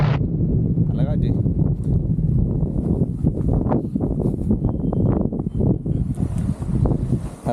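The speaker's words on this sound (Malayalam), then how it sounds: "നല്ല കാറ്റുണ്ട്." Strong wind sweeps through a forest area in Attappadi with a continuous, rough rushing that buffets the microphone, heard beneath a person speaking nearly the whole time.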